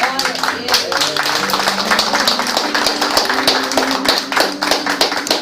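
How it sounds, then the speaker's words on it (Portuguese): A church congregation claps at a Sunday service, a steady run of sharp, overlapping hand claps lasting several seconds, mixed with a sustained musical or vocal tone underneath. "Essa palavra merece uma salva de palmas."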